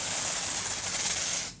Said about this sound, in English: Hold 8 inches away and mist directly onto the face, spraying in a Z shape from forehead to chin.